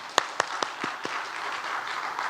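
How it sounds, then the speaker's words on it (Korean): Audience at an autumn church revival meeting applauds, with several sharp, loud claps near the start that give way to a steady, dense wash of clapping from the congregation. "박수 한번 합시다."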